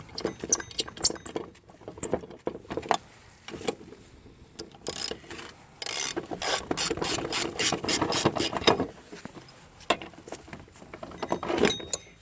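A ratchet tightens the bolt on a Lincoln Navigator belt tensioner. Quick, close clicking strokes come in uneven bursts, speeding into a dense run near the middle and then ending with a few final pulls.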